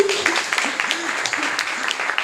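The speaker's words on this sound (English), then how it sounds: "You should clap for him." Scattered audience clapping for a student at a campus talk on blockchain technology, moderately loud and steady, with a speaker's voice running over it.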